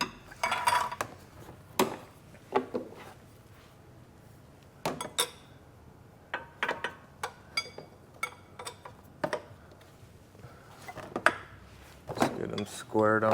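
A wrench or socket turning the crank during engine removal on a Chrysler Town & Country or Dodge Grand Caravan minivan, giving scattered metallic clicks and clinks of the tool on the fitting, close and fairly quiet.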